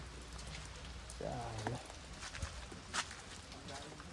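Steady monsoon rain hisses across the whole clip on a trip to a waterfall, with a few louder taps and patters, while a voice talks briefly in the middle.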